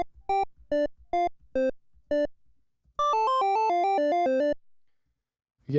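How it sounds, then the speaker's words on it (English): Pico-8 chiptune tones trace a pentatonic pattern, six short separate bleeps followed by a fast run that skips down then climbs by step, bright, buzzy and close, with no talking. "So you can start from a note and skip a note on your way down and then ascend by step."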